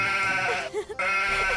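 A man imitates a goat bleating with his voice, a short wavering nasal bleat heard close and alone with a brief pause in the middle.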